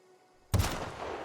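A single sharp gunshot from a gun in The Outer Worlds bursts out of near quiet, loud and close, then fades into a brief rumbling tail.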